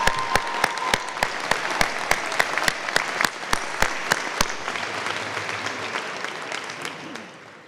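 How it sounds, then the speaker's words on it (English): An audience at a senior honors night applauds the co-valedictorian with sustained, full clapping from a crowd, and a few sharp, evenly spaced claps stand out close by before the applause slowly tapers off. "And now a round of applause for our co-valedictorian"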